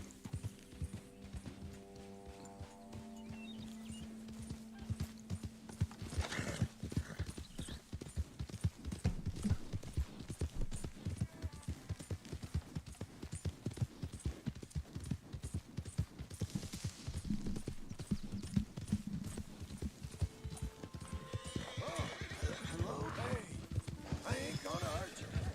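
Horse hooves clip-clop at a gallop in Red Dead Redemption 2, a Hungarian half-bred with a flaxen chestnut coat, pounding steadily and close throughout with occasional whinnies, game music and someone talking over it.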